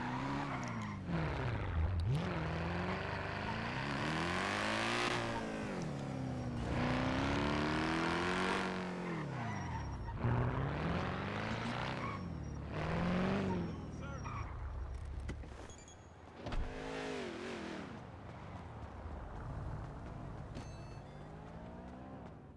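A car engine in GTA roleplay on Nopixel revs and roars through repeated swooping rises and falls in pitch, with tire squeals, while people talk over it throughout.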